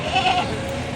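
A single drawn-out bleat from a castrated male goat, loud and close, lasting about a second.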